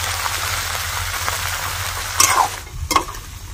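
Beans fry in a pan with oil in a home kitchen for a festive recipe, giving a steady close sizzle throughout, with a spoon scraping and stirring near the end.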